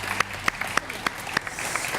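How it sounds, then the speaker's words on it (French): Scattered hand claps ring out at irregular intervals, a small group applauding sparsely over a low background murmur at a regional awards broadcast. "On peut l'applaudir quand même, Marie"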